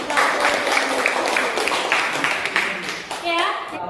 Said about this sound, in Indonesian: Oke, tepuk tangan dulu untuk kita